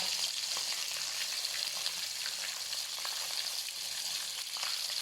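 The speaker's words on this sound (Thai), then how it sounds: "รอปลารอปลาลิมแดดเดียวของเราสุกค่ะ สุกแล้ว เหลืองสวยเดียวทีเดียวนะคะ" Sun-dried tilapia fries in hot oil, producing a dense, even crackling sizzle that holds constant and close throughout, with no voices.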